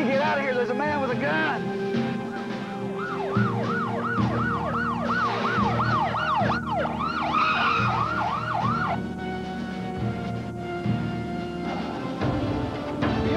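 Wailing ambulance siren sweeping up and down repeatedly, fairly loud over traffic rumble, with voices talking in the foreground.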